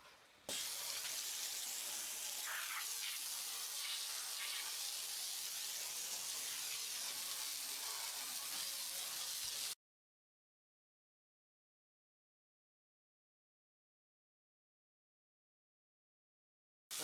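Clean water runs steadily through a pump sprayer on continuous flow while rinsing a wooden deck, a constant broadband hiss and splash for about ten seconds before cutting to silence, then resuming briefly at the end.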